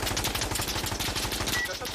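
Gunfire in the Insurgency shooter game, a rapid automatic burst of shots with even rhythm, loud and close, with voices faintly mixed in.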